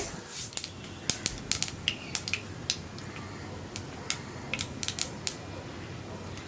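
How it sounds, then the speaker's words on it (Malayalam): Mustard seeds pop in hot coconut oil in a pan for egg curry, sending out irregular sharp crackles and snaps, close and clear over a low sizzling hiss. "കടുകൊന്ന് പൊട്ടി വരട്ടെ"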